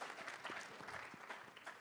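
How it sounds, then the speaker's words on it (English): Applause from an audience at a public talk on dialogue and democracy, a steady dense patter of many hands clapping, moderately distant and fairly quiet, with no speech over it. "You can applaud for them."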